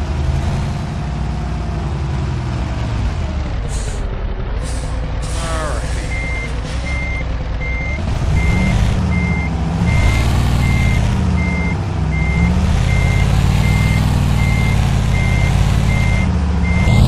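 A truck in Euro Truck Simulator 2 turns around in a loading yard, its engine droning loud and close under a steady repeating reversing beep that starts partway through, with engine pitch rising and falling.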